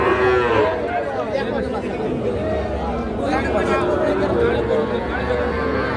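Young bulls and calves moo amid a busy rural livestock market in Naogaon, Bangladesh, with lowing calls mixed into constant crowd chatter and nearby voices.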